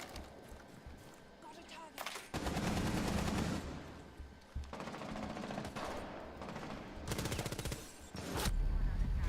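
Gunfire in Rainbow Six Siege during a PS4 esports grand final, with rapid bursts of automatic fire and sharp shots in clusters, heard under an excited commentator talking throughout.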